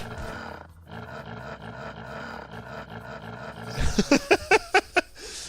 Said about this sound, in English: In Old Norse mythology, all wolves sounds like chainsaws that can start.